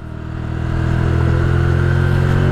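A motorcycle engine runs close by on a frozen, icy road in sub-zero morning fog, a steady mid-pitched drone that swells over the first second and then holds even and loud.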